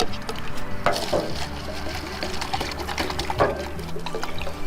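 Wood stain being poured and stirred in a container, a steady close liquid sloshing and scraping with occasional clinks, no talk.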